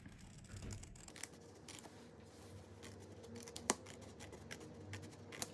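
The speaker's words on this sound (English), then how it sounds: "Let me just cut this out." Scissors snip through paper card at close range, quiet, with a few sharp cuts and light rustling handling sounds in a calm room, no speech.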